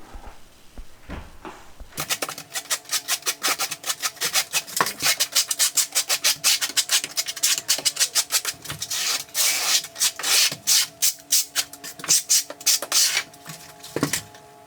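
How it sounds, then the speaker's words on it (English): Trowel scraping thinset mortar onto the back of a ceramic floor tile during a diagonal tile install over Schluter Ditra, a fast run of close, rhythmic rasping strokes after a quiet start, loud and steady. "you'll notice that I am back buttering every tile"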